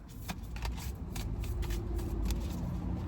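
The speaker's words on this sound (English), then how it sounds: "the way it sounds when you shuffle" Tarot cards riffling and flapping in quick bursts as they are shuffled, close by, over a low steady rumble in the background.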